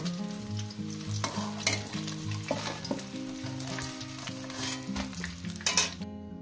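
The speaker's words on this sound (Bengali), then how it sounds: "বাদ বাকি মাছগুলো একেবারে ভেজে নিয়ে আমি ফিরছি।" Rohu fish pieces fry in hot oil in a pan, a steady close sizzle with crackling and occasional stirring, no voices, over a faint musical background.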